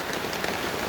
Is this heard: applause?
no